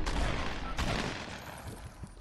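Gunfire in Fortnite, a dense burst of rapid shots at the start with another sharp volley near the middle, then fading echoing reports, loud and close with no talk.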